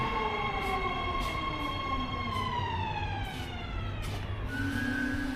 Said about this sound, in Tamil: ட்ரெயின் வந்துட்டு